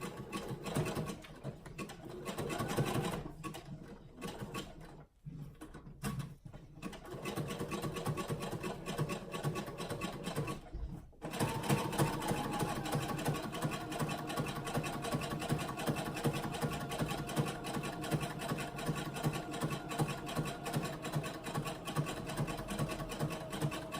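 A sewing machine stitches fabric lining with a fast mechanical whir, running in bursts separated by short pauses, then in a long continuous run.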